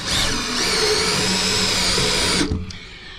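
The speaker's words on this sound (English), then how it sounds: "I'm gonna take our trusty drill" A cordless drill whirs steadily at high speed for a couple of seconds, then stops abruptly, leaving a faint tail of noise.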